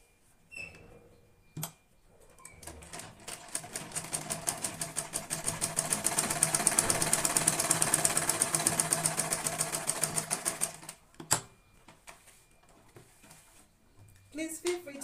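A sewing machine stitches a visor sun hat in one sustained run of rapid, even needle ticks that swells and fades, framed by a few isolated clicks and handling knocks before and after.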